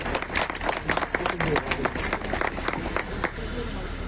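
Crowd applauding at a local public event in Rajasthan, dense rapid clapping from many people, loud and close, thinning out over the last second with some voices mixed in.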